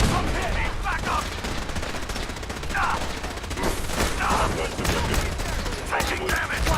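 Dense, sustained gunfire in a video game battle set at Bunker Hill, with overlapping volleys and rapid bursts that continue steadily throughout, loud and close, while voices shout now and then beneath the shooting.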